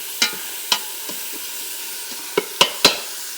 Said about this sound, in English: crush my meat up here. Crush it all up.